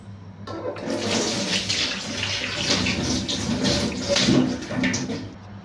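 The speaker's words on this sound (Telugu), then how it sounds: "ఇప్పుడు వాటర్ వేసుకుందాం కొంచెం" Cool water pours in a steady, full stream into chilli bajji batter, rushing and splashing continuously and up close for several seconds.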